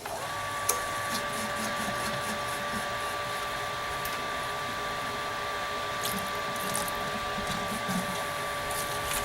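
A small pump runs steadily to flush leftover cleaner or water out of homebrewing hoses, a constant close electric whine and hum with a few faint clicks and knocks.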